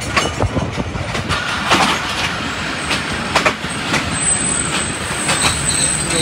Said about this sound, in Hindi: हरनपुर जंक्शन पर पहुँच चुकी है हमारी मलकवाल एक्सप्रेस